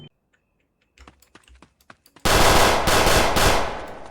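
Automatic gunfire in a video game, loud and sustained from close range for about two seconds with brief gaps, after a stretch of soft clicks and short taps.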